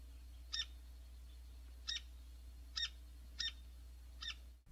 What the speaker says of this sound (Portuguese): Pica-pau do campo.